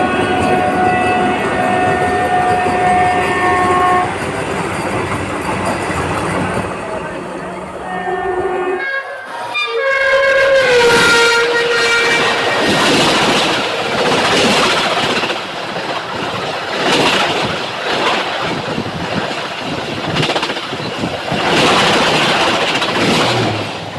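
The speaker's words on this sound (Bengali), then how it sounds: "আমাদের ট্রেন এখন এসে পৌঁছালো" A mini Vande Bharat express pulls into a station: sustained horn tones give way to a loud rolling rumble with rhythmic wheel clatter and a brief horn blast, all close and continuous.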